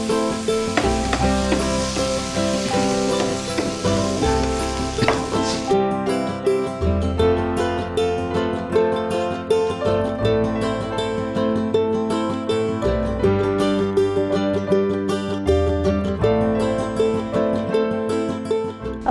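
Veg Manchurian balls fry in hot oil in a home kitchen, giving a steady, close sizzle with occasional stirring scrapes that continue throughout, with no talk.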